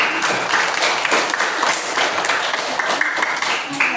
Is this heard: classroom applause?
yes